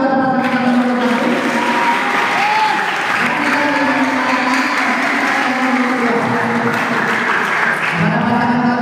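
An audience at an Islamic boarding school student-association election debate applauds candidate pair number 1, a dense, steady wave of clapping that fills the room for the whole stretch, with a few voices mixed into the crowd.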